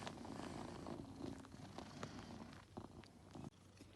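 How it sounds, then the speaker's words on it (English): A soft, steady cat purr rumbles close by, low and continuous, with faint rustling and small movements around it. "Really listen carefully and you can hear him purring happily."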